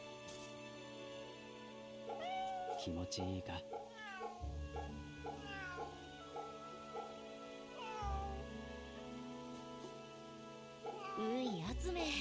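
Cats meow repeatedly in Fate/Samurai Remnant, several rising, whiny calls scattered across the stretch over steady game music, with a brief spoken line near the start.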